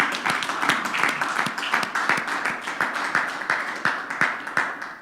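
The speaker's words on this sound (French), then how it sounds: "on acclame très fort le Seigneur" A church congregation claps loudly and steadily together, with sharp, dense hand claps building into sustained applause that fills the room for several seconds, with a little voice mixed in.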